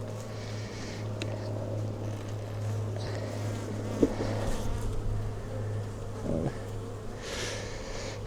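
Honeybees in an open production hive drone with a steady low buzzing hum during a spring inspection, close and continuous, with faint handling taps and rustles from the frames and no talking.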